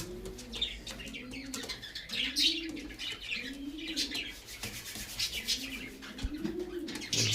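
Pigeons coo in a loft, repeated low rolling coos in a steady rhythm close by, with chirps and occasional wing flutters around them.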